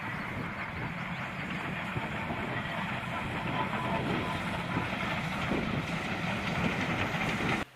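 Steam locomotive 58926 hauls coaches along a heritage railway toward Keighley, a continuous heavy rumble of rolling wheels and rail noise, loud and steady for the whole stretch.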